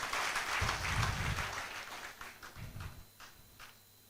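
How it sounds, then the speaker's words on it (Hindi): Audience applause at a seminar on the RCM business, a broad wash of clapping that swells, fades, then returns briefly before thinning out, with no talk over it. "एक बार जोरदार ताली बजाते हैं इनके लिए।"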